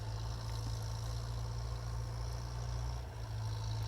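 A steady, low DTZ 5404 tractor engine drone, ploughing with a two-furrow plough, hums continuously with a faint rattling vibration, like a heavy motor working at constant load.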